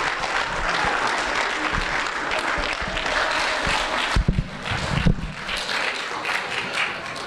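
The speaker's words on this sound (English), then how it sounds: "Give them a round of applause." A church congregation at a Sunday service breaks into sustained applause, loud and steady for several seconds, with a few heavier claps and a brief dip toward the end.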